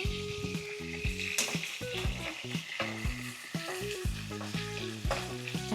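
Garlic fries in a pan with a constant close sizzle, while repeated clinks and scrapes of a utensil against the pan come in rhythmic bursts throughout.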